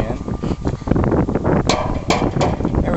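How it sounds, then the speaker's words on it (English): Sharp metal hammer blows drive a part into a 2012 6000 hoist assembly, several close, loud strikes at irregular intervals amid shop clatter and a voice talking. "We're going to hammer this in there"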